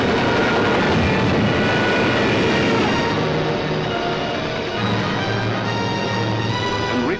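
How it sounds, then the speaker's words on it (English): Droning engine roar of German WWII bomber aircraft passing over London during the Blitz, a loud, steady rumble with harmonic engine tones that holds throughout, part of a 1943 film soundtrack. "Some of the German bombers broke through London's defenses."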